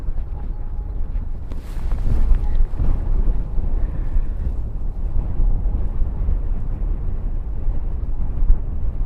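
Wind buffeting a camera at a live airport stream in Christchurch, a loud continuous low rumbling roar with gusty swells and a brief sharper rush, no talk over it.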